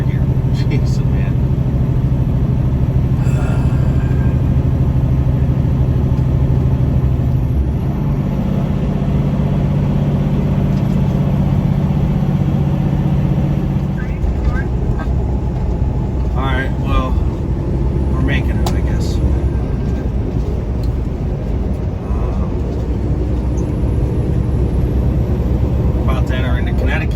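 A tanker truck hauling a load of wax labors under heavy engine strain, its loud, deep drone shifting down a gear partway through, with someone talking over the cab noise.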